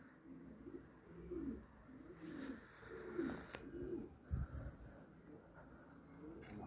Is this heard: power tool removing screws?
no